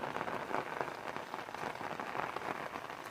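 Rain patters steadily on an umbrella held over a field of corn, a close, dense, continuous drumming with no pauses from start to finish.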